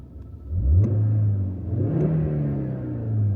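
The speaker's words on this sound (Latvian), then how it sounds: "Tas, ko mēs dzirdam, protams, ir Dobijā 5 cilindru dzinēja skaņa." A Lancia Kappa's 2.4-litre, 20-valve five-cylinder engine cranks and catches, then revs up and settles into a rising and falling close-up rumble, with a second rev swelling near the end.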